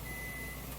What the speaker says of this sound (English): Something's beeping. Oh, I got something in the microwave.